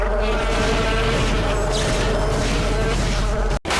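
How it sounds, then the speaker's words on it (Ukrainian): Robot mosquitoes in the video game Daikatana give off a continuous insect-like buzz that stays loud and steady, then cuts off abruptly near the end. "робокомарі, які шкоди майже не несуть, але зайобати вас саме своїм звуком на початку гри будуть"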